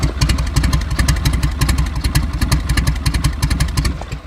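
A 1981 Harley-Davidson Road King with a rebuilt shovelhead V-twin idles close by, its loping, uneven tick-over thumping in a steady rhythm with a metallic clatter on top.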